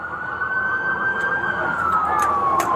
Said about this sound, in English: we need these sirens off